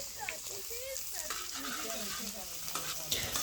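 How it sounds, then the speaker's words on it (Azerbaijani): Finely chopped sheep tail fat frying on a sac griddle makes a continuous close crackling sizzle, with scraping stirs and faint voices in the background. "qoyun quyruq piyini xırda-xırda doğrayıb sacın üstünə qoyduq, qızardırıq"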